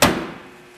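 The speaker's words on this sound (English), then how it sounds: "just push the door, don't slam it" A 1928 Fisher-body truck cab door is pushed shut with a single close, solid thud that decays quickly; no voices.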